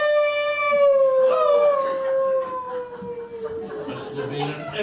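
Wolf howl effect in a radio drama, a sustained wavering howl with layered tones sliding slowly downward, loud and close, lasting the whole moment.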